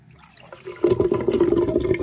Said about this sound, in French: Donc, je vais faire partir l'eau.